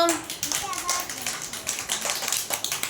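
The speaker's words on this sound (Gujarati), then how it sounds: "સીતાફળ સરસ ચાલો તાળી પાડો" Children in a group clap along in a fruit-naming game, producing steady, overlapping hand claps at moderate loudness, with a voice briefly heard at the start.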